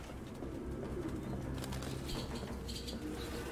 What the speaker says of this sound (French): Bon, bah ça a l'air d'être des pigeons tout à fait normal